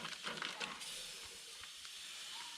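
Butter melts in a hot pan with maple syrup while salmon is being cooked, making a soft, steady hiss and sizzle that stays faint and continuous, with a few slightly louder crackles near the start.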